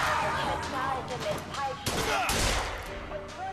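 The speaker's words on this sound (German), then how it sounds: "Oh, das war ein Kopfschuss." Gunshots in Bioshock Infinite, including a headshot, with a couple of sharp cracks amid busy combat noise and someone talking in German.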